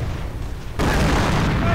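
A single heavy artillery shell blast bursts in a Company of Heroes battle, a sudden loud boom that cuts in after a low rumble and lingers as a rolling roar.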